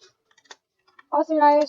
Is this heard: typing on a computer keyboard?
yes